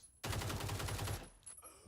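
Rapid automatic gunfire from a shooter video game rattles in one sustained burst of evenly spaced shots at moderate loudness, then cuts off into a few quieter game sounds.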